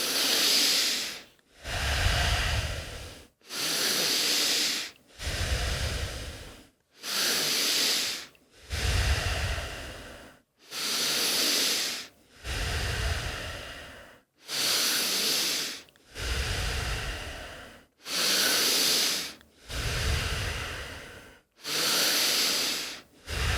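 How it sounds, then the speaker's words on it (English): Deep conscious breathing exercise: long, slow breaths in and out, a steady rhythm of about a dozen loud, close, hissing airflow cycles separated by short pauses, with no talking. "So we'll start by breathing out on 3."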